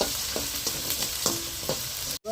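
Onions and tomatoes sizzle loudly in a pan for an Andhra gongura mutton curry, a dense close frying hiss broken by several scraping stirs and a sudden brief cut near the end.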